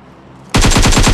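Rapid automatic fire from a DP-28 machine gun in PUBG Mobile, a dense burst of about six close, loud shots in quick rhythm that erupts suddenly after a quiet lull.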